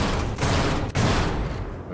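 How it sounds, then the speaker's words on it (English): A rotary cannon fires in the strategy game Age of Wonders: Planetfall, a dense continuous burst of rapid gunfire with a brief cut near the middle, loud and close. "Rotary cannon."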